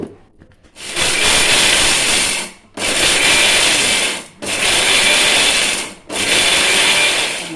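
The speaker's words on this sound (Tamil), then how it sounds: "நான் இதிலே வந்து நான் உளுந்து போட்டுக்கிறேன் கொஞ்சம் கொஞ்சமாக போட்டு அரைக்கணுமா" A mixer grinder grinds black urad dal into a thick batter, running loud and close in steady whirring bursts separated by short pauses.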